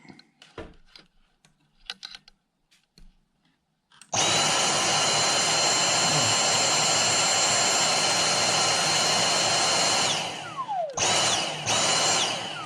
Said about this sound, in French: on pourrait refaire marcher l'aspirateur Dyson avec une batterie lambda